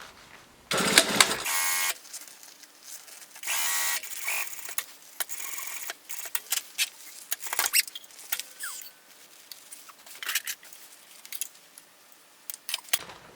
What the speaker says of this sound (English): So I'm gonna just top stitch all 4 sides real quick.